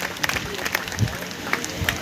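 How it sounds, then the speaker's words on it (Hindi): A church congregation claps during a Hindi spiritual service, with loud, uneven rhythmic clapping and scattered sharp peaks from nearby hands, mixed with murmuring voices. "ताली बंद नहीं होना जब तक"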